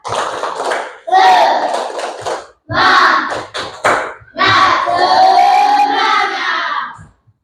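A classroom of pupils performs the 'tepuk semangat' clapping chant, loud group voices shouting in rhythm with bursts of hand claps in several phrases, with brief pauses between them.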